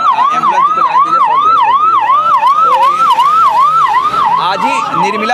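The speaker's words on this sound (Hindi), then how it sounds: "थोड़ा सा साइड हो जाइए, एम्बुलेंस को जाने दीजिए" An ambulance siren wails loud and close in a steady, fast up-and-down cycle, joined toward the end by a second, overlapping siren and traffic noise.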